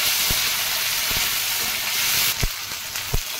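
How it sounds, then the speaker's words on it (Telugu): Chopped tomato frying in a pan for a cauliflower and broad bean fry, a loud, dense sizzle throughout, broken by a few sharp spatula taps and no voices. "ఈ టమాటా నీరు శాతం పోయే వరకు వేయించుకోవాలి"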